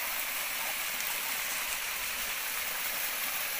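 A small waterfall with a low flow on a hot summer day, giving a continuous soft hiss and rush of falling water, steady and unbroken, with no voices over it.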